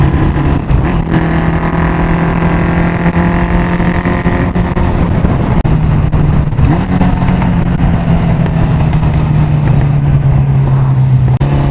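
A Honda 750 Four motorcycle on the move, its engine a steady loud drone with a low even hum that dips slightly in pitch partway through, heard up close over wind rush on nicer roads.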